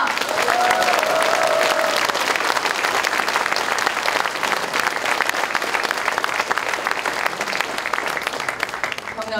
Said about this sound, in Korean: 여러분 박수로 응원해 주시기 바랍니다